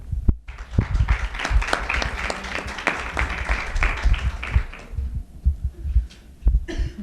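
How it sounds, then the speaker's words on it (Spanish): Audience applause for a speaker at a presentation event in Córdoba, a sustained burst of indoor clapping from a modest crowd that thins out toward the end, with a few scattered claps and a cough. "Un aplauso para él."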